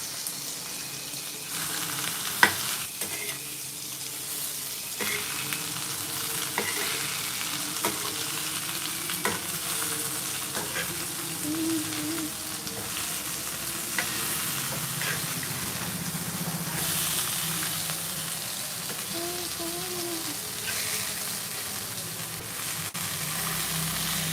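Vela fish fries steadily in a pan, giving a continuous soft hiss of oil sizzling, with occasional light clinks and bursts of spitting and no voices over it.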